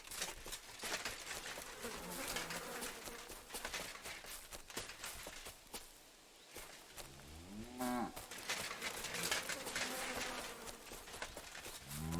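Fattened cattle moo in Kingdom Come Deliverance 2, long low drawn-out calls repeated over a buzz of flies and insects, with a brief quieter gap midway.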